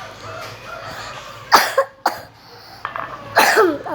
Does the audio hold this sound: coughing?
yes